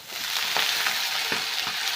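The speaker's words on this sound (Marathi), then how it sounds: "आता बघा यात टाकणार आपण मेथीची भाजी" Steady, loud sizzling of fenugreek greens frying in a pan, with a few soft stirring scrapes and crackles, no voices.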